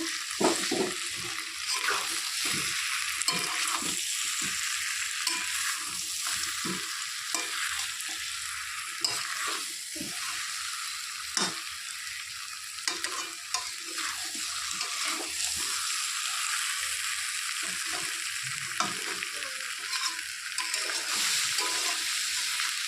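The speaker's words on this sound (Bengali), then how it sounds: "ঢাকনা খুলে আবারও ভালো করে নেড়ে চেড়ে দিচ্ছি" Goat meat curry fries in a pot, giving a constant close sizzle as it is stirred, with frequent scraping and clinking strokes throughout and no voices.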